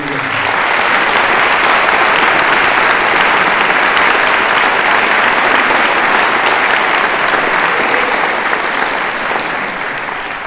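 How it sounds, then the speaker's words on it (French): A large conference audience claps loudly and continuously at an opening session for botany, a dense, sustained wall of applause lasting the whole stretch and tapering only slightly at the end. "je voudrais que vous applaudissiez toutes les personnes qui ont participé à cette organisation"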